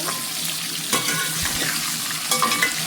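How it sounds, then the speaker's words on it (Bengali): Potatoes fry in a pan while being stirred, giving a steady close sizzle with scraping stirs near the one-second and two-and-a-half-second marks. "এখন এদিকে আলুটা ভাজা হয়ে এসেছিল"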